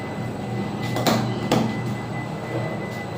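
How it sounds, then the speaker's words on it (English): A Schindler lift elevator descending at Bird Paradise, a steady low mechanical hum with a couple of sharp clunks and rattles of the car and doors, fairly close and with no voices. "Elevator is going down."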